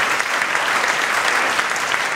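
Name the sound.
audience applause for a volunteer at a live comedy show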